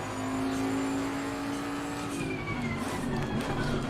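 A race car in the Assetto Corsa racing game drones at high revs with a steady engine tone, then shifts pitch as tires squeal and skid, a continuous loud rush with no voice over it.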